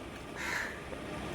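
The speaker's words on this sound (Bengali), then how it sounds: "পাখির ডাক দেখতে পাচ্ছ তো?" A crow caws once outdoors, a short harsh call standing out briefly over quiet background hiss.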